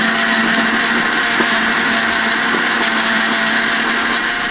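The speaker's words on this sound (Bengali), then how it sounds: "এদিকে সরিষাগুলো ব্লেন্ড করে নিব আর সাথে দিয়ে দিব পরিমাণ মতো কাঁচামরিচ" A kitchen blender grinds mustard seeds with green chilies, a loud, steady high whirring drone that holds unbroken from start to finish with no pauses and no talking.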